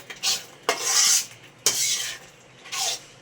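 Thick beetroot malt bubbling and spitting in a pot on the stove as it is stirred, with scraping spoon strokes and several loud splattering bursts in uneven rhythm, close by.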